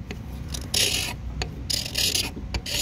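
Carbide-edged scraper drawn across a machined pump part, giving a few separate rasping strokes of about half a second each, close and fairly loud, over a steady low background hum.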